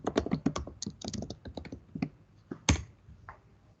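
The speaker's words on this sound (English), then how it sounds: "I'm typing the names." Rapid clattering keystrokes on a computer keyboard, close and clear, in quick irregular bursts with one sharper, louder key strike near the end and no talking.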